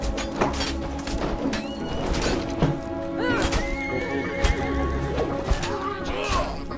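Horses neigh and whinny repeatedly amid clopping hooves and sharp clashing impacts, all loud and close in a chaotic Conan Exiles raid battle.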